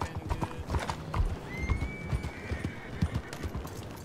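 Horse hooves clip-clop in a quick steady rhythm in a video game, with a brief whinny partway through; a faint voice murmurs in the background.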